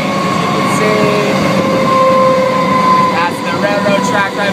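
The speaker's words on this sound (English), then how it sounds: "as of right now we are in between metro trains" A Melbourne metro train runs along the railroad track nearby, giving a loud steady rumble with sustained tonal whines from wheels and motors that shift near the end.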